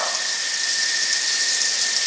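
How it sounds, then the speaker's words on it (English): Hot water runs from a tap in a steady hiss with a faint high squeal, close and continuous and without talk. "So, getting the hot water, the tap water hot"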